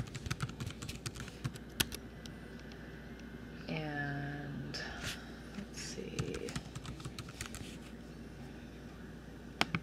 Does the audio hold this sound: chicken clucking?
no